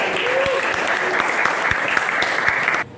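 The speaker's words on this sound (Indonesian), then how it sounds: "Pakai tepuk tangan" Children in a classroom clap their hands together in a dense, steady burst that fills nearly three seconds at close range, then stops abruptly, with a few voices mixed into the clapping.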